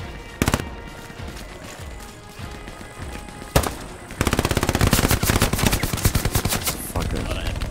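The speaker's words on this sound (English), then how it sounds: "Shooting at it." Gunfire in a squad shooter video game: a few isolated heavy shots early, then sustained rapid automatic bursts in a dense rhythmic stream, loud and close.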